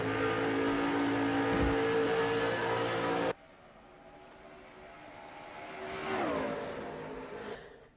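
Racing trucks in a Hunt Brothers Pizza Truck Series video game race at Pocono, including a Dodge, roar loudly at close range for about three seconds, then drop to a steadier, quieter engine drone that swells briefly as another truck passes.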